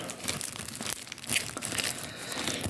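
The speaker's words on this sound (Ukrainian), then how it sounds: "Зафіксуємо файлик скотчем, щоб він там сильно не йорзав." Plastic coin sleeve being fastened with adhesive tape inside packaging, close crinkling and rustling with a few sharp crackles and tearing bursts.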